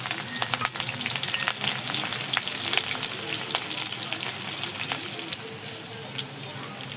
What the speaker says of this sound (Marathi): मी कढई ठेवून मिरच्या टाकून घेतल्या